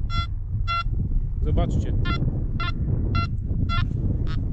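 A Makro Multi Kruzer metal detector in a field gives a series of short, evenly spaced electronic beep tones, about eight repeating pulses, while someone speaks briefly over low wind and background rumble.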